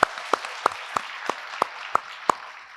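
A church congregation at a Sunday service claps for the worship team and the broadcast crew, eight sharp, evenly spaced claps in a steady rhythm, close and clear with no talk.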